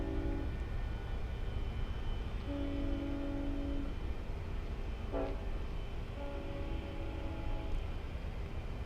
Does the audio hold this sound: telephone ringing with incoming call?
no